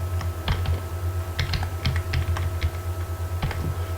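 Keys clatter on a computer keyboard while PHP code is typed, a steady run of crisp clicks coming in small bursts over a low background hum, with no one talking.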